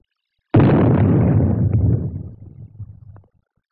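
Nuclear test detonation of a shell fired from the Army's 280-millimeter gun in 1953: a single sudden, massive deep boom that rolls and rumbles for about three seconds before fading out.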